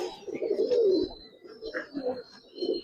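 Pigeons coo in soft, low repeated phrases close by at a loft, several overlapping calls rising and falling with faint chirps above them.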